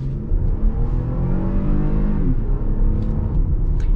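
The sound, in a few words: 2020 Toyota Highlander 3.5 liter V6 accelerating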